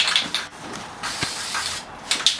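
An aerosol spray can lays down a thin coat of paint, a steady close hiss in short bursts with brief pauses between passes.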